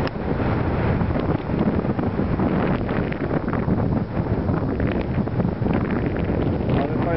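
Strong wind in the Tatra mountains roars steadily against the microphone, making a loud, continuous buffeting rumble that goes on without a break.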